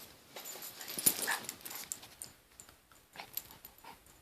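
A puppy whimpers and whines in short, faint, intermittent bursts, with some panting breaths between, close by in a quiet room.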